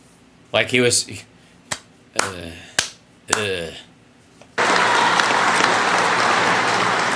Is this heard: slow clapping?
yes